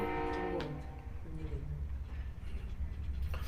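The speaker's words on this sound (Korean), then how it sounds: "원래 저렇게 소리 안 지르는데 기차가" A train horn blares loudly with a stacked, sustained tone, then cuts off and gives way to the low rumble of the passing train, heard from a distance outdoors.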